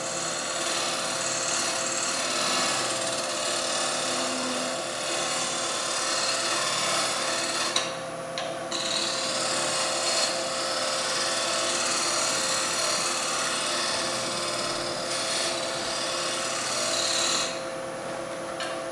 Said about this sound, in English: we can use skew chisel on its side, so a regular skew chisel, and we're going to scrape now.